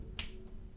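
A single crisp finger snap sounds close by, made to trigger the clap sensor on a LEGO Star Wars Boost droid, against a quiet background.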